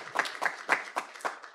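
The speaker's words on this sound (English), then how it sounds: "Let's give him a round of applause." A small audience gives a round of applause at a university agreement signing ceremony, about six distinct bursts of clapping in quick succession, fairly faint and thin.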